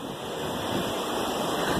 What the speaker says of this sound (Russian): и ветер не задувал в камеру